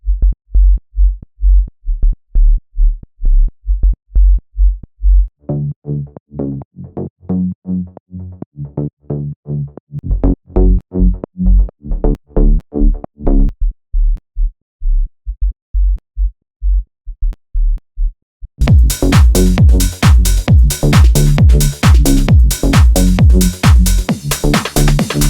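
Deep sine-wave sub bass pulses steadily beneath a house bassline, a low throbbing rhythm alone at first, then joined by a fuller, brighter full mix near the end, with no talking.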